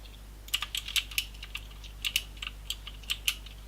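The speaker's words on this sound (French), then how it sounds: "ça fait stresser quand j'entends des bruits de clavier souris." Quick, light clicks of a computer keyboard and mouse during a game session, tapped in irregular clusters, close but quiet over a low steady hum.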